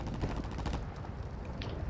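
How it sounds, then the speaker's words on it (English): Sustained rapid video game gunfire, a dense rattling fusillade of close shots that thins out toward the end. "They're shooting on there."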